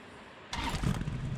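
A car engine starts suddenly after a short quiet stretch, then settles into a steady, moderately loud idle rumble close by.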